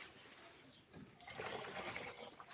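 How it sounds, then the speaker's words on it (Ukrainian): A jar is rinsed after mixing a grape spray, giving a soft, continuous splash and trickle of water that swells midway, faint and close, with no talking. "Зараз баночку сполоснемо"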